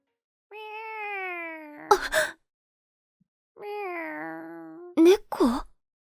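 Two long, drawn-out meows from a stray cat, each a rising wail, close and clear, each followed by brief breathy noise, separated by a short silence.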